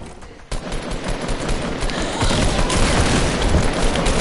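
Rapid, dense gunfire from a shotgun and other weapons in the Fortnite video game, loud and continuous with repeated blasts building in intensity, no talk.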